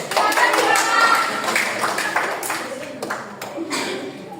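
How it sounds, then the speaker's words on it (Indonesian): A classroom group claps hands together for a short while, a busy patter of many hands close by with voices mixed in. It fades a little toward the end. "Tepuk tangan itu semua."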